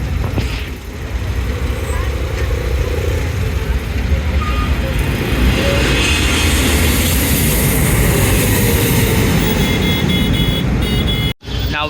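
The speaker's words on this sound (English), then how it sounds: "Now we have Qatar Airways Boeing 777-300ER which got diverted to Mumbai" A Qatar Airways Boeing 777-300ER passes at night near Mumbai, its jet engines making a loud, broad roar that swells and holds for several seconds, with a brief dropout near the end.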